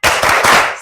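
Classroom group doing a rhythmic "tepuk semangat" clap routine: a short, loud burst of several quick sharp claps close by, in rapid succession.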